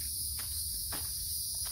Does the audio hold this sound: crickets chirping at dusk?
yes